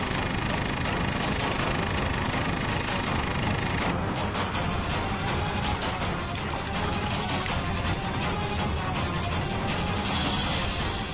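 A portable generator runs steadily and loudly throughout, a constant engine drone with clattering and knocking on top.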